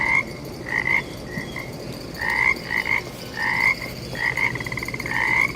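A toad croaks repeatedly in the morning, loud and close, in short trilling bursts separated by brief pauses, with no talking.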